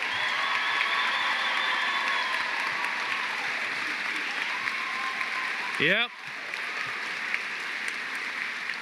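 A crowd applauds at a veterinary medicine white coat ceremony, steady dense clapping filling the hall, with a brief voice and a sharp sweeping burst near the end before the clapping carries on.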